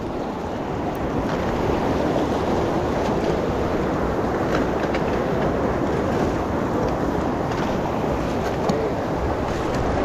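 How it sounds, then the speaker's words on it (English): Steady broadband rushing of Tyndall Creek on the John Muir Trail, close and continuous, with a constant churning roar and no voices. "Then another fun water crossing on day 5 at Tyndall Creek."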